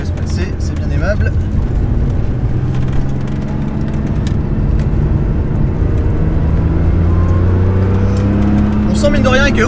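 A Porsche 911 SC flat-six drones loud and close from inside the cabin on the Lohéac racing circuit, holding a steady, rising engine note throughout while someone talks over it.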